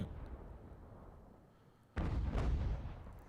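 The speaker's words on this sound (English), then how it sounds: "I've never seen counter battery fire work like this." Artillery fire from a counter-battery exchange in the strategy game Ultimate General: American Revolution, a low rumbling volley that bursts in abruptly halfway through, loud and dense over quieter ambient battlefield noise.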